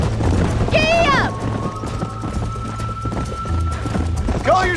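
A horse gallops in the video game Red Dead Redemption. Hoofbeats thud steadily under a loud whinny near the start, with a long tonal note running through the middle and another whinny at the end.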